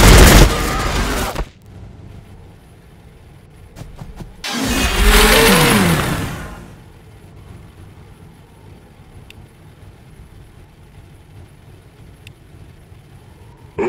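Loud bursts of gunfire from the strategy game Warhammer 40K Battlesector, a heavy volley at the start and a longer roaring barrage midway, then quieter game ambience.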